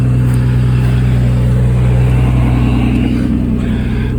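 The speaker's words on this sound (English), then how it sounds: "It's idling a little high. It's about 1500 RPMs right now, but it's cold." A cold 2004 Nissan Maxima engine idles fast, around 1500 RPM, with a steady, loud, close mechanical hum that stays constant throughout and no speech over it.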